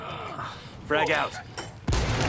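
Frag grenade explosion in Ghost Recon Wildlands: a sharp, booming burst late in the clip that follows raised voices shouting in combat, with rumbling game noise underneath.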